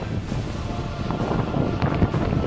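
Strong gusting wind of a squall and thunderstorm roars and buffets the microphone, rising and falling in rough bursts with no talking.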